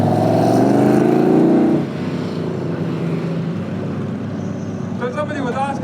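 Engine roaring from a car sliding sideways at a Ferrari and Lamborghini demonstration festival at Brands Hatch, a loud sustained revving note that drops after a couple of seconds into a steady drone, with a whistling tone near the end.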